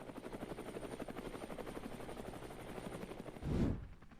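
A CH-53 military helicopter's rotor thumps in a fast, steady pulse, fairly close, swelling briefly into a louder rumble near the end.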